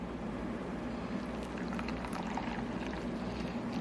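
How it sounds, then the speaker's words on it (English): Liquid pours steadily into a bowl of dry ingredients for a homemade Honey Nut Cheerios cereal dough, a soft continuous splashing close by with no talking. "now I'm gonna add in our liquid"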